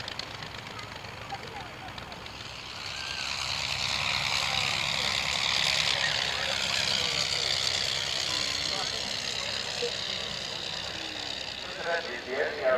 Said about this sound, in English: this is an original 1911 aeroplane with an original engine in it.